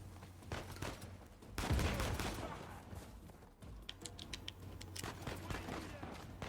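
Gunfire in the video game Uncharted 4, a loud burst of shots around the two-second mark followed by scattered crackling pops and high ringing bangs over a steady background rumble and game noise.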